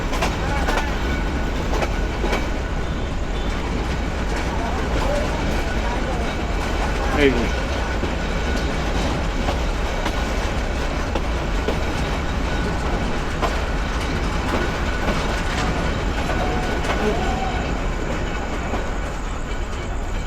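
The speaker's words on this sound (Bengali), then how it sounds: "ট্রেন স্লো হয়ে গেল, এখানে থামতেছে" A train rolls slowly into Pahartali railway station in Chattogram, a steady low rumble with faint rail clatter, and someone speaks briefly over it.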